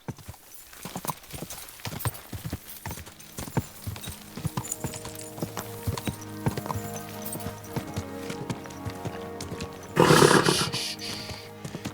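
Hooves of a horse in Kingdom Come Deliverance 2 clop in a quick, steady galloping rhythm for about ten seconds, then a loud neigh bursts out near the end.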